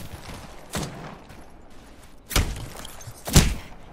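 Three sharp gunshots in an Apex Legends firefight crack out one at a time at uneven intervals, each a loud punchy blast over a low background hum, the last the strongest.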